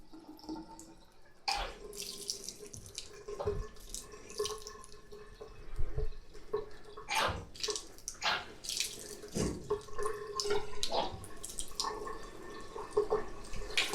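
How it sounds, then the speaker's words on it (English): A bathroom sink faucet runs a light trickle of water, a faint, steady splashing and dripping with scattered clunks and handling noises nearby. "we're gonna turn the sink on"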